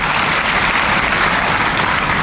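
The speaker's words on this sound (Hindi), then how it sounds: "एक बार जोरदार तालियां होना चाहिए." Loud, dense applause from an audience honoring Rotarians at an event in Tirupati, many hands clapping in a continuous roar with no pauses or speech.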